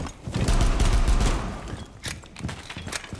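Gunfire in Rainbow Six Siege during a pistols-only 2v2 match: a loud cluster of rapid shots up front, then scattered sharper pops and thuds trailing off, with no talk over them.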